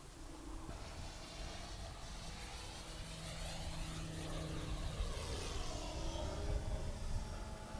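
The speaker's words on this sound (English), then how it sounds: "second flight of the Skywing Slick 73" A Skywing 73-inch Slick 3D RC airplane flies with a steady buzzing propeller drone, its pitch shifting as it passes, heard from a distance over a hiss of wind.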